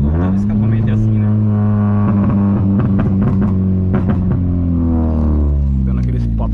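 A 1999 VW Gol G2 1.0 8V fitted with a 4-inch HKS exhaust rumbles loudly and steadily, with its engine tone rising and falling and scattered crackling pops, while people talk over it throughout.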